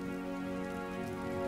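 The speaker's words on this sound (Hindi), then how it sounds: "इस लगातार होने वाली मॉनसून की बारिश से चारों तरफ की सारी सड़कें जलमग्न हो गई हैं।" Steady monsoon rain falls in a continuous, even hiss that stays constant throughout, with no voices over it.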